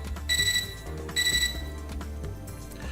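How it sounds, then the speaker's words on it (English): Electronic alert chime from a portable terminal in the Fate/EXTRA video game: two bright tonal bursts ring out over steady game background music. "I hear the electronic noise from my portable terminal."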